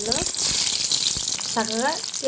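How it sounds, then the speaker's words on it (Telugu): Bitter gourd fries in hot oil in a pan, a loud, steady close sizzle with brief utensil scrapes and short voiced sounds over it. "ఆయిల్ వేడైంది. చక్కగా ఇలా ఫ్రై చేసుకోవాలి."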